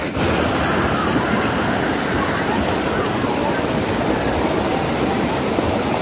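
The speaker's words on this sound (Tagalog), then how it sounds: "Ang ganda ng hagos ng tubig" Cold mountain stream water rushes continuously over rocks, a loud, dense and steady roar filling the whole stretch without pause.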